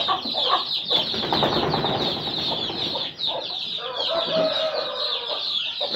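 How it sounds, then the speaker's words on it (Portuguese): A small white rooster clucks repeatedly in a farmyard, with other chickens joining in a busy, close chorus of clucks and squawks and a brief voice in the background. "Aqui ó, um galinho todo branquinho pra montar junto com ela."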